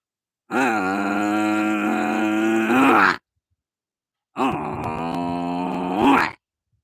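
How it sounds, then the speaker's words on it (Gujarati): Two long, low, groaning moos from a buffalo, each about three seconds with a short silent gap between, loud and close. "પછી ભેંસ ભેંસનો અવાજ પાછો આવે"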